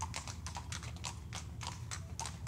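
Horse hooves clip-clop at a steady trot as royals ride toward a forest and a blue lake, close and continuous with a dense rhythmic patter and no voices.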